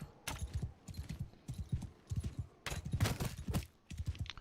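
Galloping horse hooves in the video game Mount & Blade II: Bannerlord, a rapid rhythmic clatter repeating in bursts throughout, fairly close and moderately loud, with no talking.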